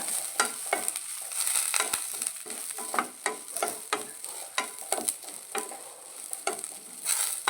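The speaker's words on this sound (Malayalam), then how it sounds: "ഇതിലിഞ്ഞ് ഒന്ന് മൂപ്പിച്ചെടുക്കട്ടെ ചെറിയ ഉള്ളി കൂടി ഇട്ടിട്ടുണ്ടേ" Small onions sautéing in a pan for chickpea curry, a steady close sizzle broken by repeated scraping stirs in an uneven rhythm, with no talking.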